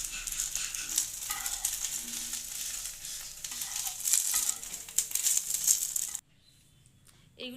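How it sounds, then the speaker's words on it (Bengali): Breakfast pieces sizzle and crackle steadily in a frying pan for about six seconds, a close, bright hiss with small pops, then the sound cuts off abruptly to near silence before a faint return at the end. "এরকম করে সবগুলো আমি ভেজে নেব"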